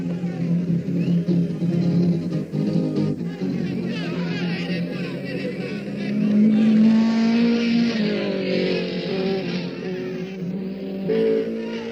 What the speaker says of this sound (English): And still, Bandini's Ferrari continues to set the pace.